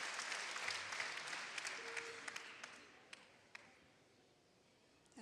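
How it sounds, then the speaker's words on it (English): Spectators applaud at a junior men's recurve archery bronze-medal final in Nimes, moderately loud clapping at a distance that fades gradually, with a few sharp isolated claps toward the end. "Et vos applaudissements, s'il vous plaît."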